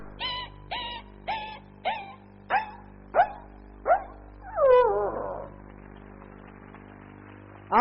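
A voice imitating a puppy calling to its mother gives a quick series of about eight short, high yips in a steady rhythm, then a drawn-out wavering whine. A brief yip returns at the very end. Close and alone.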